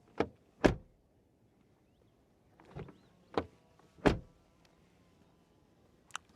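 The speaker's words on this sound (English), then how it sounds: "Door closing sound." The doors of a Mercedes-Benz GLE SUV shut in a few separate solid thuds with quiet gaps between them, plus fainter mechanical clicks and latching sounds, close and without talk.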